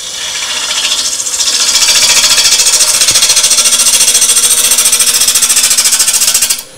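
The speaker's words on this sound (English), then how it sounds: "I'm going to start with a lumpy bowl gouge, so we're going to go to the half inch and just a gentle pull cut initially." A half-inch bowl gouge makes a gentle pull cut on a wooden bowl spinning on a lathe, a loud, steady rasping hiss with a fast rhythmic flutter, no talking.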